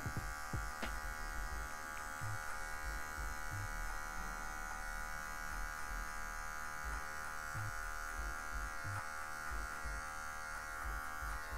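Electric hair clippers with a number 1 guard cutting a fade in afro hair, a steady close buzz with faint irregular bumps as the blade moves through the hair.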